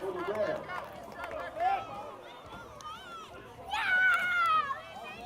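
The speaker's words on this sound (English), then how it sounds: "Hear the crowd go, go, go, go." Crowd of spectators yelling and cheering at a first- and second-grade kids' football game during a reverse-play touchdown run, excited voices swelling loudly near the end amid general chatter.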